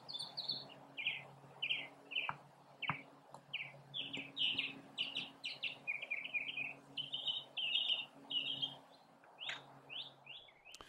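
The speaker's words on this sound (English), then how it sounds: "Maybe some bird lover can identify that call for us." Repeated chirping bird calls ring out at a moderate distance across an outdoor croquet lawn during a national championship match, steady and continuous over a faint background hum.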